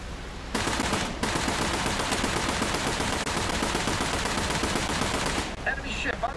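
Ship guns firing in the naval combat game War Thunder, a loud, dense, sustained burst of rapid automatic fire running almost the whole time, cutting off briefly near the start and fading out at the end.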